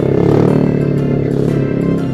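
Yamaha Aerox scooter fitted with a cheap WRX aftermarket exhaust, a steady close-up engine drone with a buzzing, evenly pulsing exhaust note while riding, no voices over it.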